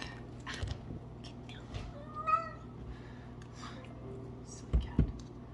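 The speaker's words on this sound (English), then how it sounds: "Silly cat." A house cat meows a few times in a home kitchen where cinnamon buns are being made, with soft background noise and brief faint whispery sounds around the calls.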